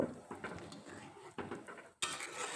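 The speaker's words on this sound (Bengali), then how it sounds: "এখন একটু নেড়ে চেড়ে নেব সব কিছু একসঙ্গে মিশিয়ে নেব" A spoon scrapes and knocks against a pan while fried vegetables, including cauliflower, are mixed together. The clinks and scrapes come in quick, close, irregular strokes at a low level, and a sharper clatter follows a brief pause near the end.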